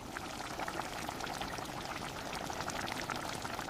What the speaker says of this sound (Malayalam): ഇതിലേക്ക് കുറച്ച് മഞ്ഞളും ആവശ്യത്തിന് ഉപ്പും കുറച്ച് വെള്ളവും കൂടി ഒഴിച്ച് നന്നായി വേവിക്കാം.